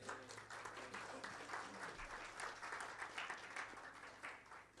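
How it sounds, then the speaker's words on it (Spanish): Church congregation applauding in praise, a steady wash of clapping from many hands filling the room, moderately faint and continuous with a low hum underneath. "Dale un aplauso al Señor, por favor."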